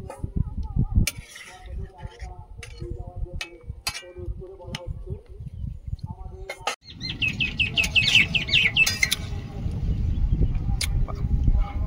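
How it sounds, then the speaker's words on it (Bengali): Birds chirp in a bright, busy chorus that grows louder partway through, mixed with steady background noise and occasional clatter from a home kitchen where chutney is being cooked. "পাখিগুলো খালি বসার ভালো জায়গা পেয়েছে দেখো।"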